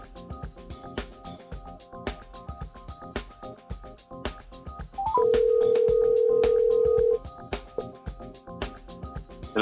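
A telephone call goes out for a podcast interview: a dial tone and a short burst of dialing tones, then a long steady ringing tone, heard over a busy rhythmic music bed, fairly loud and close.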